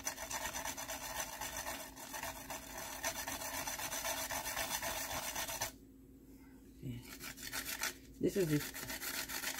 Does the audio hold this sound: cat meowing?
no